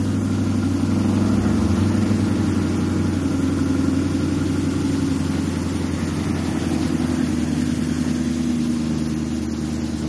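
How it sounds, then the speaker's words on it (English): A car engine idles steadily nearby, a continuous low rumble that holds even for about ten seconds with no talk over it. "You can hear that car though."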